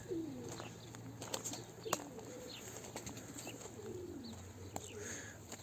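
Pigeons cooing softly in a repeated, low murmuring pattern at moderate distance, with faint chirps and a brief flutter of wings over steady background hum.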